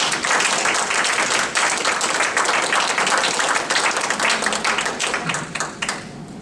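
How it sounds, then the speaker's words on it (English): An audience at an alumni reunion applauds, dense steady clapping from many hands that holds strong and then thins out toward the end. "So give her a big round of applause."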